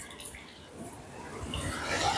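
Small rocky forest stream water splashing and trickling over stones, a soft steady burble close by that swells slightly toward the end, with no voices.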